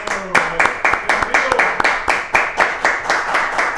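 An audience at a televised talk show applauds a guest, with loud, close, rhythmic clapping in a steady even beat from a small group.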